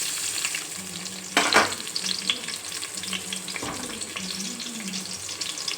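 Chopped onion sizzles steadily in hot oil in a pan for a spicy country-chicken sambar, with a couple of louder bursts and stirring noises over a constant frying hiss.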